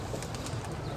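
Pigeons caught in a net giving soft, low cooing calls at close range, short and faint over a steady background hum.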